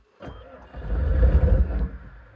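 A Bobcat 753 skid steer's diesel engine turns over on a cold start, a close, rough cranking rumble that builds for about a second and a half, then falls away.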